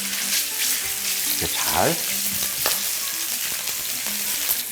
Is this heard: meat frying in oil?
yes